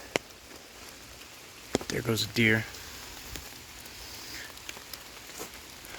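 Rain falling in the woods, a soft steady patter with scattered drops, while a voice speaks briefly over it.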